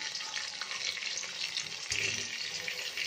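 Leftover ingredients hit a hot pan for a mixed rice dish and fry with a fairly quiet, steady hiss, a brief knock partway through.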